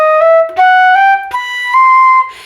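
A flute plays an arpeggio run from the 2024-2025 Texas (TMEA) All-State Flute Etude 1, slurred in pairs of notes that step upward in pitch across about two and a half seconds, clear and close with no talking.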